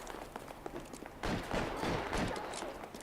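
Gunfire in the 1940s Los Angeles crime game L.A. Noire, a soft spattering of shots that swells into a denser burst of rapid rounds midway, moderately faint and continuing to the end, with no speech.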